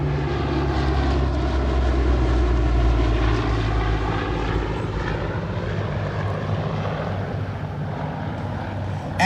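The B-29 Superfortress known as Fifi, a four-engine propeller bomber, sends up a loud, continuous droning roar with a heavy low hum and a throbbing propeller beat, steady and close throughout with no voices.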